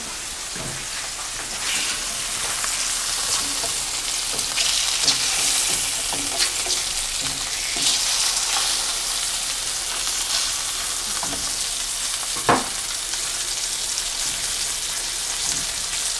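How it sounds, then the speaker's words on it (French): Meat fries in a pan as it is turned, a steady close sizzle running throughout with a few sharp scraping clicks and one louder clatter near the end, no talking. "Là, je vais aller retourner la viande."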